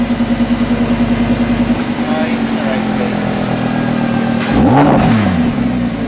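A 2017 Lamborghini Huracan V10 idles with a pulsing, throbbing note, then gets one sharp, loud rev that swells and falls back, heard up close.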